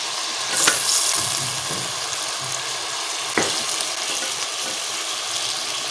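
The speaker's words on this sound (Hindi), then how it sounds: "इसको अच्छी तरह फ्राई कर लेते हैं" Chicken fries in a pot for handi biryani with a steady, close hiss and sizzle, broken by a couple of brief louder spits or stirs, and no talking.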